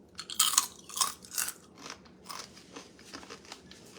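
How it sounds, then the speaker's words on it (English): Crunchy oven-baked tortilla chips, baked five minutes at 375, being bitten and chewed close up: a series of sharp, crisp crunches, loudest at first and then fading into softer rhythmic chewing. "And it's really crunchy."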